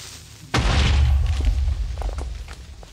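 A creeper explodes in Minecraft with one sudden, close, loud boom that rolls into a rumbling decay lasting a couple of seconds, with faint clatter afterward.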